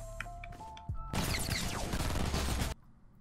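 Burst assault rifle fire in the video game Fortnite: a loud, dense run of rapid shots lasting about two seconds, breaking in after quieter game sounds and stopping abruptly.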